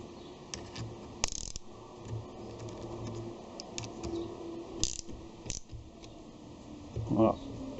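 Metal clamps for a precision vise being tightened on a milling machine, giving scattered clicks, ratcheting and small metallic knocks with a brief louder clatter near the end, close by and fairly quiet.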